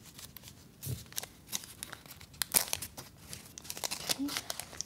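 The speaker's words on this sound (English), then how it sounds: "I need to go in and try and rip them further" Thin plastic packaging from period products rips along a perforated edge, close crinkly tearing in short bursts and scattered crackles, soft and near.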